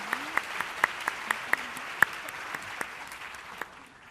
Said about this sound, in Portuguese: Então, palmas para a Eliane.